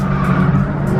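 A BMW E92 M3 drifting in a tandem run with a turbo E30, its tires squealing loudly and continuously over a steady engine roar, close to the car.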